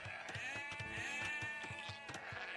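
Sheep in the video game Age of Empires II let out a short, nasal bleat over a steady game background hum, close and clear.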